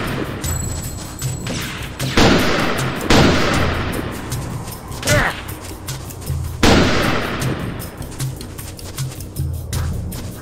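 Loud sniper gunfire booms repeatedly in Second Sight, several heavy shots with long echoing tails, spaced a second or more apart amid battle noise.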